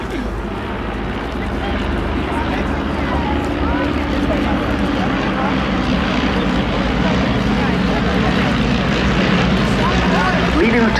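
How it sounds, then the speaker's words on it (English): Propeller-driven RAF training aircraft, the main wartime trainer for Britain and the Commonwealth, flying past at the Cosford air show, a steady loud engine drone with wind rumble, continuous throughout and rising slightly at the end. "Now this is an important aircraft in that it was the main trainer for those in Britain and in the Commonwealth"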